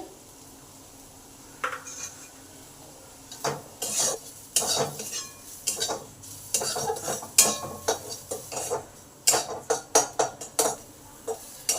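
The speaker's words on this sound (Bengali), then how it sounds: "আমার পেঁয়াজ আদা রসুন সব ভালোভাবে ভাজা হয়ে গেছে লাল লাল হয়ে গেছে" Onion, ginger and garlic frying in a pan, stirred with a metal utensil: irregular scraping and clattering strokes come close and loud, quickening into rapid stirs toward the end, over a faint sizzle.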